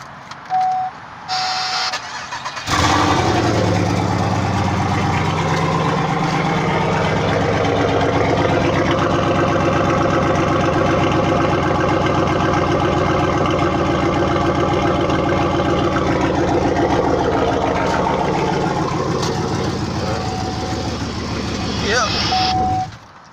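Pontiac Grand Prix GXP with straight pipes cranks over and fires up, settling into a loud, raspy idle that rumbles steadily close by before cutting off; a voice is heard briefly beforehand.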